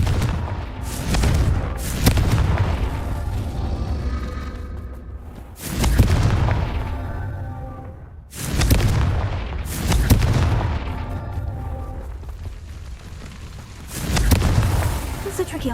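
Confringo fire spells burst in Hogwarts Legacy, one heavy booming explosion after another, each with a rumbling decay. They come at irregular intervals over a low background.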